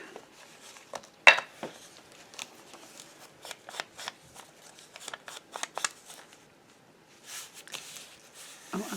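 Paper trimmed for a handmade library pocket, giving a series of short, crisp snips and slices at a steady irregular pace, close up and fairly quiet, with a louder cut near the start and rustling paper toward the end.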